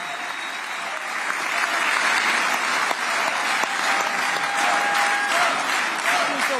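A parliamentary chamber in Israel fills with sustained, dense applause for US President Donald Trump, a loud steady wash of many hands clapping that swells slightly and holds for several seconds.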